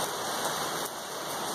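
Steady rain falls outdoors on a hot, humid day, a dense, continuous wash of drops that is close and fairly loud, with no voices.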